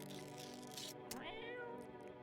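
A cat in the video game No I'm Not a Human gives one short meow midway over a steady hum of game music and ambience, fairly quiet overall.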